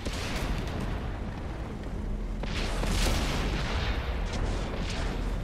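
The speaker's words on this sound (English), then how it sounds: "Heads up! Artillery!" Artillery fire in the World of Tanks game comes as muffled, rumbling booms under a busy battle din, with a heavier blast swelling near the middle.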